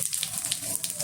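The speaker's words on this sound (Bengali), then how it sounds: "ফোড়নটা একটু ভালোভাবে ভেজে নেব।" Whole cumin seeds, whole garam masala and bay leaves sizzling in hot white oil for a Bengali jackfruit curry tempering, a steady close crackle with bright hissing spits throughout the short stretch, no voices.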